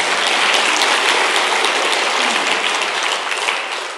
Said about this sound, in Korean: 이때는 박수도 한번 보내주지 않나?